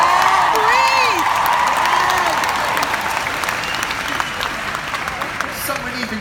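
A crowd at a Nick Vujicic talk breaks into loud applause with cheers and whoops, the clapping dense at first and slowly tapering off, with some voices shouting over it.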